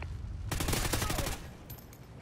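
Rapid burst of automatic fire from a Honey Badger assault rifle in Call of Duty, a tight string of shots lasting about a second, fairly close, followed by quieter game ambience.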